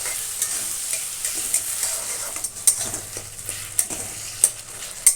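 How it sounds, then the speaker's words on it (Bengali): Tomato and onion with salt sizzling in a pan, a close, bright frying hiss punctuated by repeated sharp spatula scrapes and taps as they are turned, no speech. "আমি একটু নেড়ে নেব"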